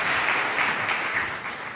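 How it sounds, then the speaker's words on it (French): A conference audience at a blockchain event applauds the speakers after a panel discussion, with a short burst of steady clapping from a seated crowd. "je souhaiterais vraiment saluer les orateurs et vous inciter à les applaudir."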